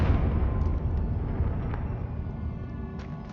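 Confringo spell cast in Hogwarts Legacy, a loud fiery explosion at the start that fades into a long rumbling decay, with small crackles afterward.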